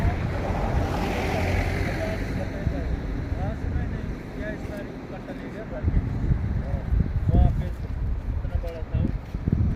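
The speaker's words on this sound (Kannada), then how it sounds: "ಮಂಜುಗಡ್ಡೆ ಅಡಿಯಲ್ಲಿ ನೀರು ಹೋಗ್ತಾ ಇದೆ" Meltwater rushes beneath ice near Gangotri in the Himalayas, a steady broadband roar with gusting wind across the microphone and faint voices in the background throughout.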